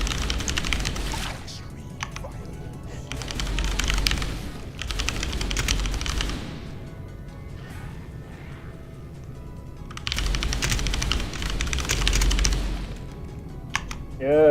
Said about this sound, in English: You can hear his keyboard. It's like a machine gun going off, man.